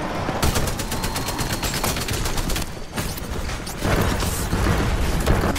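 Sustained automatic gunfire in the sci-fi shooter Titanfall 2 during a multiplayer match, loud and dense, with a short lull midway before heavier bursts resume.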